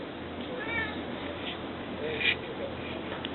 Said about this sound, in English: Is that a kitty cat?